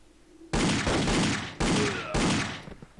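Automatic weapon fire in the Indiana Jones und der Turm von Babel video game: three loud rapid bursts, each about a second long, with short gaps between them, close and harsh.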